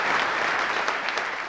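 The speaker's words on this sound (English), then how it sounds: "Give him a round of applause." A live audience breaks into applause, a dense wash of clapping held at even strength for its short length, close and full, with no speech over it.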